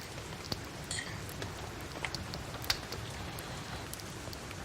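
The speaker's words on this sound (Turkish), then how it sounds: "Yağmur yavaşlayana kadar mecbur bekleyeceğiz." Rain falls steadily in a soft, even hiss, with a few sharper drops ticking nearby now and then.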